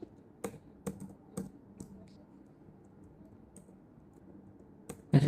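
Keys on a computer keyboard are pressed in a Shift, Ctrl and arrow shortcut. The taps are close and quiet, with a few sharp clicks spaced irregularly and pauses between them.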